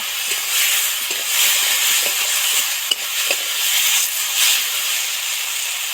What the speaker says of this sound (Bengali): আর সামান্য একটু লঙ্কা গুঁড়ো দু চার মিনিট সবজিটা ধরে ধরে ভাজতে থাকবো